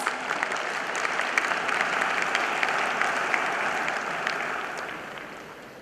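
An audience at an international conference of chartered accountancy students breaks into applause, a dense, even patter of many hands clapping that continues steadily and gradually tapers off at the end.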